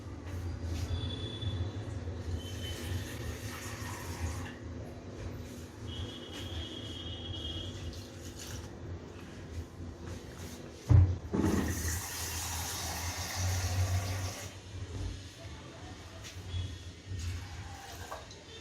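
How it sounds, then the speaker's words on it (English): Water poured into a pot for dal makhani, a steady rushing pour that swells partway through with a splashing burst, alongside a low background hum; no talking. "now I'm going to add water to it."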